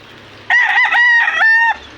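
A rooster crows loudly and close by in two quick bursts, with a faint low hum in the background.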